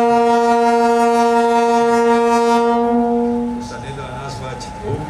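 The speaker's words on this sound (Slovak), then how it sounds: "tento zvuk bol známy svojho času na celom Slovensku v nákladných vlakoch pred elektrifikáciou považia" Horn of an old freight train from before railway electrification, a single sustained chord-like blast held steadily for over three seconds, loud and close, before cutting off into background noise.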